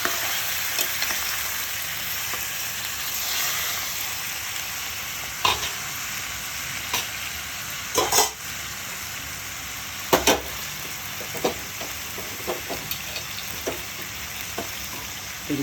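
Tomato pieces sizzle and fry in a pan for a pickle, with a steady hiss broken by occasional sharper scrapes and clacks as they are stirred.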